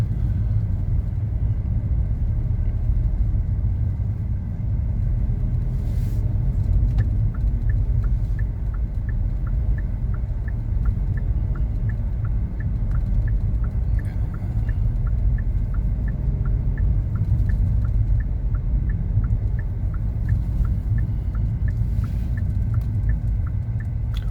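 A Hyundai Casper car engine works steadily while the car climbs a hill, with a constant low rumble and road noise from inside the car. Faint rhythmic ticking runs throughout, and no one speaks.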